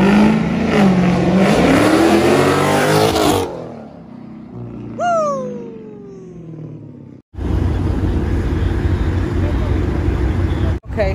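A Mazda car engine revs and roars close by as it drives past, rising in pitch as it accelerates, then cuts off abruptly and gives way to a steady rumbling hum.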